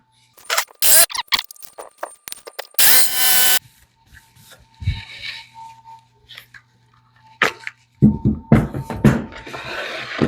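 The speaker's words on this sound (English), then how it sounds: "Let me get these cut out with the jigsaw" Jigsaw cutting during a Harbor Freight dust collector upgrade in a workshop, loud rough bursts of cutting with pauses between, the blade buzzing in short runs and stopping several times.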